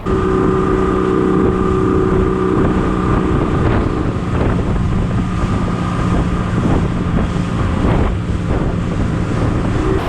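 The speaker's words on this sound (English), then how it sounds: "there's just so many boats out here" Steady motorboat engine drone over water while striped bass fishing, with wind buffeting the microphone and the hum of several boats nearby.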